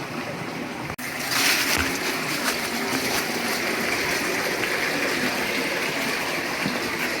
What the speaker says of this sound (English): all of this water right here is coming out of this cave right over here